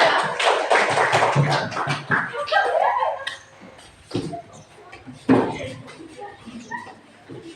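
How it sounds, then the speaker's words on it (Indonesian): A classroom group applauding group 3 after a presentation, a short burst of scattered clapping with chatter and shuffling that quickly thins out into murmuring voices and a few isolated taps. "beri dulu aplaus untuk kelompok 3"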